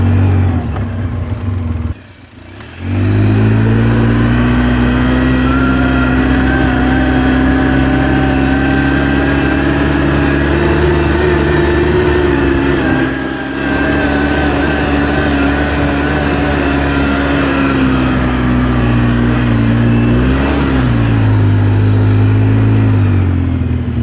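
A 2006 Polaris Sportsman 800 ATV engine pulls steadily up hills under throttle, a loud, close, continuous drone with a brief drop near the start and slight rises in pitch, with no talking.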